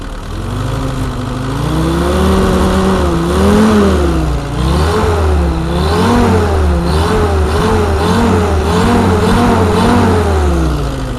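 A turbocharged Jeep engine with about 65,000 miles idles and is blipped repeatedly, its loud nearby tone rising and falling in a quick wavering rhythm of revs with no voices.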